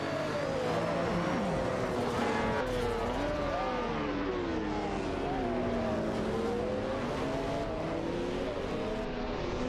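Race cars, including a Lamborghini Countach LP5000 and a Shelby Series 1, compete in a simulated racing game, their high engine whines rising and falling together in a loud, continuous, layered drone.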